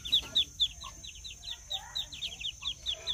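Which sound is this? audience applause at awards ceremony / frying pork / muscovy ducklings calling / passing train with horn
muscovy ducklings calling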